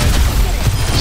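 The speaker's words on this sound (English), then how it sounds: "The ones with weapons aren't shooting at Claire, just us." Dense, continuous gunfire from enemies in the video game Overwatch, with booming low thuds and crackling bursts filling the whole second at close range; no speech.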